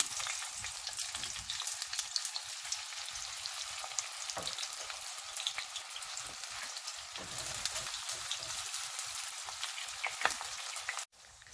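Thin onion slices fry in hot oil and ghee for a vegetable biryani, giving a dense, steady crackling sizzle close by with occasional stirring, ending in a sudden brief drop.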